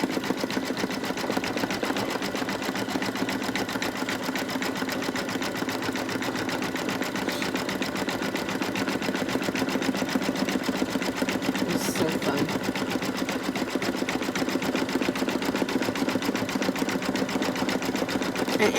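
An embroidery sewing machine stitches a zigzag, whirring in a steady, rapid mechanical chatter that stays close and even throughout.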